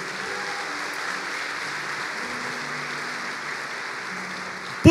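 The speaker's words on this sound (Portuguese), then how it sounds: "Você pode dar um aplauso ao Senhor?" Worshippers at a Brazilian celebration church service applaud, a steady wash of clapping over soft sustained tones, holding even throughout and ending in a sudden loud knock.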